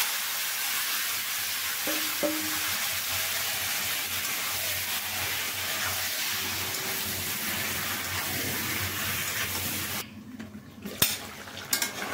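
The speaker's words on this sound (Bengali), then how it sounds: "এখন আমি মাংসটা ঢেলে দেব।" Duck meat frying in a pan, a steady broad sizzle running throughout, with a few light metal clinks near the end as the pan is handled.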